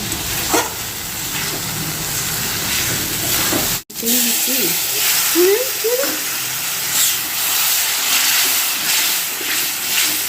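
Potatoes frying in oil, a steady broadband sizzle and hiss with stirring scrapes and small pops near the middle, continuous throughout with a brief break, some voices murmuring faintly underneath.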